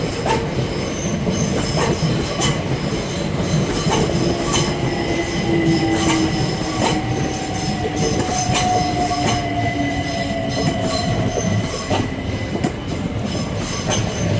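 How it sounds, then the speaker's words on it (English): A Class 376 electric multiple unit pulls into Charlton station, a steady loud rumble of wheels on rail with drawn-out flange squeal and faint clickety-clack at the joints, close by and continuous, with no voices. "Now arriving in is a 376."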